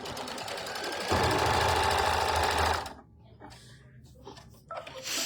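Home sewing machine stitching a tack down along the cut edge of quilting fabric, a steady loud mechanical whir for about three seconds, then stopping into quieter room noise with faint handling sounds.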